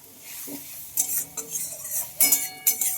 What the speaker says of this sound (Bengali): মশলাটাকে এখন এইভাবে আমি কষিয়ে নেব